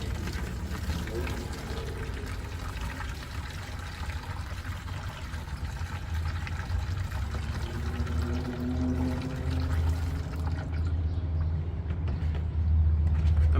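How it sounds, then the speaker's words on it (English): Hot water pours in a continuous, rushing stream through stained fabric into a bucket, a steady wash of liquid lasting the whole stretch with a low rumble beneath. "I'm going to take my hot water and I'm going to pour straight through"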